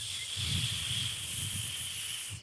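A cartoon snake called Nagu gives a steady, sustained hiss that holds at an even level for about two seconds before cutting off, with a soft, low rumbling texture running underneath it.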